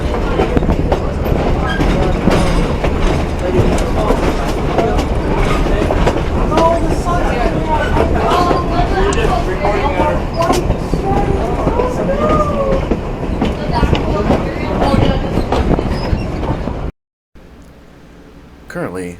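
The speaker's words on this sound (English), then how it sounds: "Currently, this scenic railroad goes from Elbe, Washington, over to Mineral, Washington, at the base of Mount Rainier, and then it takes you back." Riding aboard a Mt. Rainier Scenic Railroad train between Elbe and Mineral, Washington: loud continuous rumble with rhythmic clickety-clack of wheels and some squealing, voices talking over it, ending abruptly with a brief quieter section.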